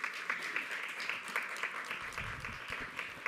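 Applause from an audience at a talk on multicultural education in Puerto Rico, a fairly quiet, distant patter of clapping hands with a few sharper individual claps standing out.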